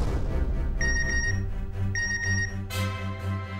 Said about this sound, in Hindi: आ गया मिंटी का मैसेज